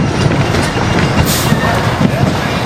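A roller coaster train, The Beast at Kings Island, rolls into the station, a loud rumbling clatter of wheels on track that stays close and continuous.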